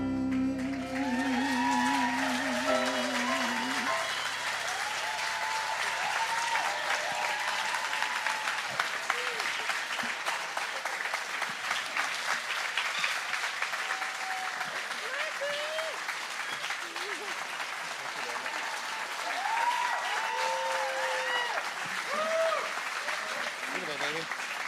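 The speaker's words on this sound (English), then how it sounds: "Let's do another round of applause" Sustained applause from a crowd at a live camp bash event, steady and dense clapping throughout with cheering voices mixed in and some talk underneath.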